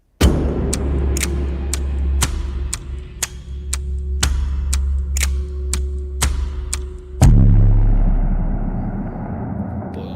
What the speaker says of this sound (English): I think I used that exact explosion sound effect at the end of the last trailer I did.